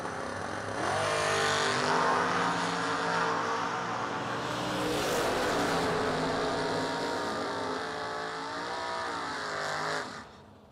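Drag racing cars, including a Corvette, blast down the strip, with a loud engine roar that swells, drops as the revs change, builds again and fades at the end.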